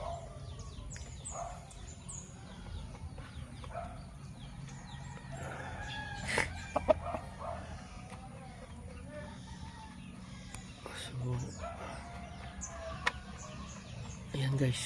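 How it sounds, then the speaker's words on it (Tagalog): Dekalb breed chicken clucking and calling in a yard, with a few brief louder calls standing out over steady low background noise and other birds chirping faintly. "Parang decalb chicken."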